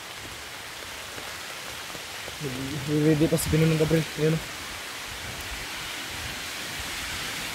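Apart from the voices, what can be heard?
heavy rain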